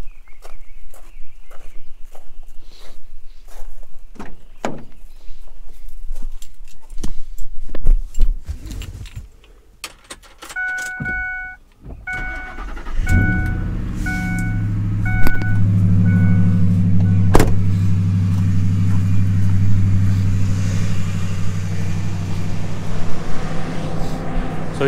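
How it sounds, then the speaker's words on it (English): A pickup truck is started: footsteps and jangling keys, a door clunk and a chime, then the engine cranks and catches into a steady, rumbling idle that keeps running close by. "Let me get the truck started and warmed up first."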